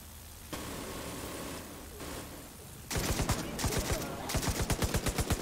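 Bursts of rapid automatic gunfire from a gun in a video game, with the first stretch muffled and distant and then loud, close strings of shots in quick rhythmic volleys.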